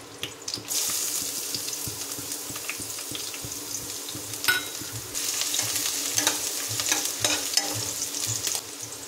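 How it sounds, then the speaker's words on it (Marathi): Bay leaf, curry leaves and a little onion frying in hot oil in a home kitchen, a steady close sizzle with scraping stir clatter and a few sharper clinks, no talk. "इथे मी घेतलंय तेजपत्ता, कढीपत्ता आणि कांदा थोडासा. तर आता तेल गरम झालं"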